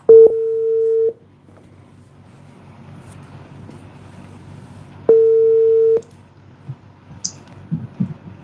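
Two steady telephone call tones, each about a second long and a few seconds apart, sound over a quiet phone line, followed by faint background noise.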